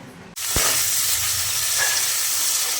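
Onions fry in a pan, a steady close sizzle that starts suddenly after a brief quiet moment and then holds at an even level, with no talking.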